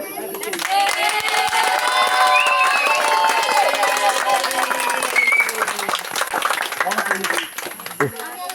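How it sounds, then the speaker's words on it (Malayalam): A crowd at an Onam celebration claps and cheers loudly and close by, with steady applause mixed with shouts and lively voices throughout. "ഓക്കെ കൈയടിച്ചേ"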